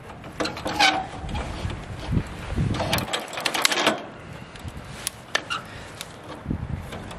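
A bolt cutter biting into a trailer lift cable, giving a series of close, sharp metallic crunches and clicks with some handling noise between them.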